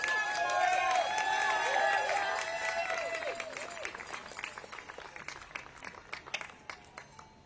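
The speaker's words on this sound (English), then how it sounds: "Give a big round of applause to all the survivors and all the victims and all the supporters today." An audience at a speech at the U.S. Capitol applauds survivors and supporters, a steady wash of clapping that thins out over several seconds, with a voice speaking over the start.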